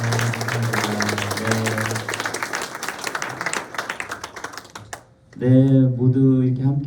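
An audience at the opening ceremony of a charity walk claps for several seconds in a crisp, dense patter, then quiets as a clear speaking voice takes over.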